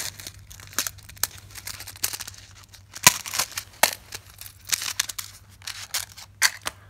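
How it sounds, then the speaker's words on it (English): Toy packaging is torn open and unwrapped up close, with irregular crinkling, rustling and sharp snipping or tearing sounds at a moderate level and no talking. "So take it out of the packaging."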